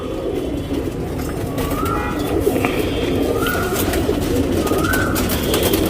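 Racing pigeons being readied for a tournament coo several times in low, rolling phrases, close by, over a constant background hum.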